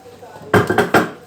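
Several sharp metallic clanks of a pot being handled, close and loud, coming in quick bursts after a quiet moment.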